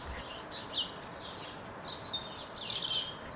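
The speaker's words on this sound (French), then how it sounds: "Difficile de ne pas remarquer la volée de moineaux qui vit sous la gouttière de la maison." A flock of sparrows living under a house gutter gives thin, scattered chirps and tweets, faint to moderate, over a steady hiss of outdoor background noise.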